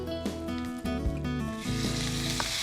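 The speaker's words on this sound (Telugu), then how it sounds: "ఆ తర్వాత టొమాటో ముక్కలు వేసుకుందాం." Tomato pieces sizzle in a pan with curry leaves and fried peanuts for a tomato poha upma. A steady, close frying hiss sits under a prominent tonal musical backdrop.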